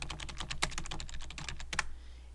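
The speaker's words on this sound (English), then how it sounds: "you're going to click in the box down here to go ahead and type your search" Rapid keystrokes on a computer keyboard as a search phrase is typed, steady clicking taps with a couple of louder key hits, close and fairly quiet, no talking.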